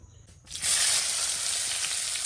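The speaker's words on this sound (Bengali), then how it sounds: "এবার পেঁয়াজ দিয়ে দিচ্ছি" Onions tipped into hot oil after a bay leaf and dried chilli tempering, for a squid curry, burst into a loud, steady sizzle after a quiet moment and keep hissing close up.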